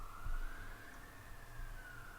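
Ambulance siren heard from outside, a faint, distant wailing tone sweeping slowly up and down over low rumbling background noise.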